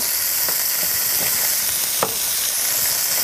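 Bacon lardons fry in oil in a pan for a coq au vin, a steady, close, loud sizzle with a few faint clicks of stirring or spattering through it.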